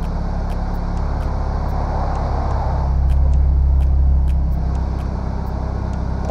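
A car creeps slowly in reverse on the clutch alone, a steady low engine hum with a slight swell in the middle and no talk.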